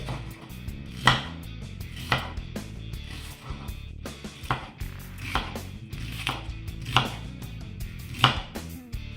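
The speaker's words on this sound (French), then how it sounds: "Donc, c'est parti pour un éminçage d'oignon." Onion being sliced with a knife on a cutting board, an even run of crisp chops spaced about a second apart, close and clear with no talking.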